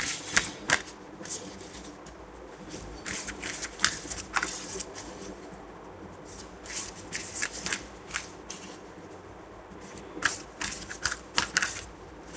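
Tarot cards being shuffled by hand, repeated quick riffling bursts of papery flutter and slaps, close and crisp, coming in irregular clusters with short pauses between.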